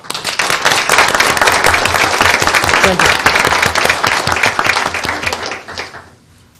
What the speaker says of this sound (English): So we'd like to give you all a round of applause.